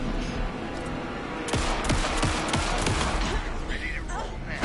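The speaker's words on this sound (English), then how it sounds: "Hit him down with gunfire for me to get the light on." Bursts of video game gunfire in Alan Wake 2, rapid shots and a sustained volley, close and loud over background ambience, with speech in the scene.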